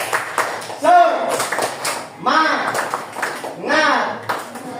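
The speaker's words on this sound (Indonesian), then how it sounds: "kita beri tepuk semangat" Schoolchildren in a fifth-grade classroom perform a rhythmic spirit clap, three bursts of group clapping with chanting, led by a teacher's voice.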